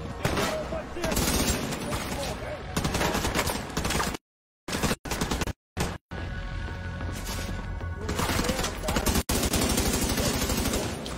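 Rapid automatic gunfire from the video game The Division 2, loud and dense in sustained bursts with a few abrupt gaps, under intermittent talk.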